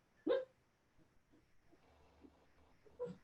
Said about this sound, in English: Sorry, the dogs are making noise.